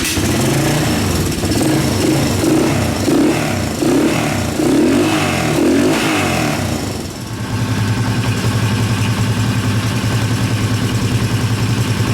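A small-bore Honda motorcycle engine with a freshly cleaned carburetor sputters through rhythmic cranking pulses. It then catches and settles into a steady, loud, close idle.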